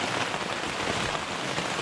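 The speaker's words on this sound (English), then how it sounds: "see how hard it is raining" Heavy rain pounds steadily on a backcountry camping tent in Algonquin Provincial Park, a dense, continuous roar of drops close overhead with no pauses and no voices.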